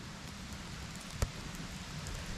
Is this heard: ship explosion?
no